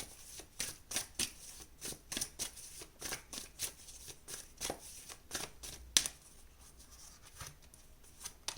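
Tarot cards are shuffled and laid down one after another in a pick-a-card reading: a quiet, close series of crisp riffles, slaps and flicks in an uneven rhythm, with no voice heard.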